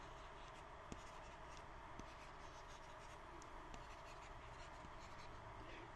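A stylus writes on the matte screen of a Kindle Scribe e-reader, giving a soft, steady, paper-like scratching that runs continuously with faint taps, quiet and close.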